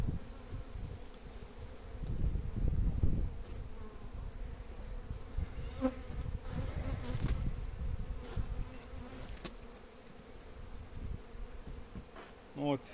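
Honeybees at a young split hive working on wax foundation hum in a dense, continuous buzz, swelling and fading slightly as individual insects drift closer, fairly quiet overall.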